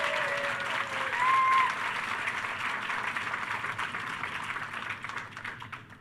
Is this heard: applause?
yes